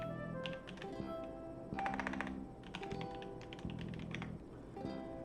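Computer keyboard typing in bursts of quick, clicky keystrokes with short pauses between them, fairly close, with no voices.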